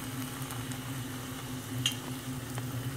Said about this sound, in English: You want the bottom of it to start getting solid and the sides to get fried.